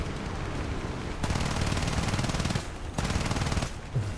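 Machine gun bursts in a flight combat video game, a rapid rattling stream of shots in a few sustained bursts with short pauses between them, loud and close over steady engine-like rumble.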